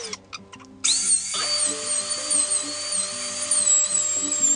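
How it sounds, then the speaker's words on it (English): A router fitted with a dovetail bit cuts the neck joint pocket in a guitar body, a steady high whine starting sharply about a second in and holding loud to the end over a low mechanical hum. "he went ahead and used the actual dovetail bit to finish"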